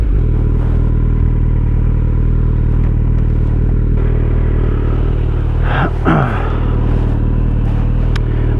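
A Kawasaki Z900 fitted with an Akrapovic exhaust being ridden, its engine a loud, steady low rumble close to the microphone, with a short rise in pitch partway through.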